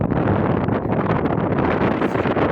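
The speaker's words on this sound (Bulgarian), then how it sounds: "много вятър духа. Направо ще ми отнесе мозък." Strong wind blasts across the microphone in a continuous loud roar, buffeting without a break.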